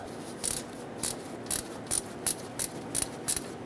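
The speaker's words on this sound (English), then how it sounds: "I'm gonna stick a ratcheting wrench in here to get this bolt out." Ratcheting wrench backing out an alternator bolt on a Chevrolet Equinox (2010-2017), a run of about eight evenly spaced sharp clicking bursts, close and clear with no talk.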